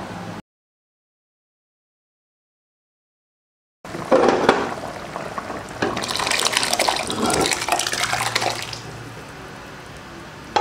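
Mashed lentils poured from a vessel into a pot of cooked vegetables, making a wet pouring and splashing sound that comes in loud after a silent gap and fades off toward the end.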